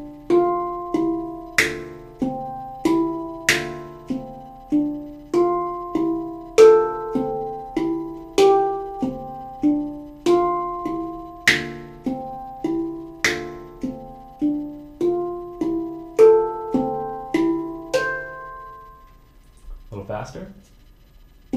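A basic melody played slowly on a Mind Bender instrument: clear ringing tones struck one after another at a steady, unhurried pace, each decaying before the next, with no voices.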